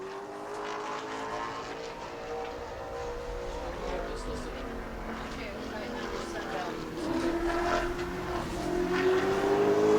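A super late model race car engine drones steadily during qualifying at New Smyrna, its pitch rising as it accelerates, with a commentator talking over the engine noise.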